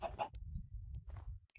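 Chickens in the video game Minecraft give a couple of short, faint clucks over a low background hum, with no talking.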